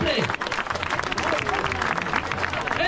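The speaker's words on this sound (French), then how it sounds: "Je vous demande d'applaudir notre vainqueur, Blandine" Crowd applause for the winner of a local running race outdoors, lively clapping and cheering close by with an announcer's amplified voice running over it.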